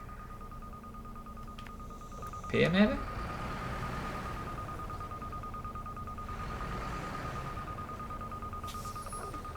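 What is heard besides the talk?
detector ringing in SnowRunner video game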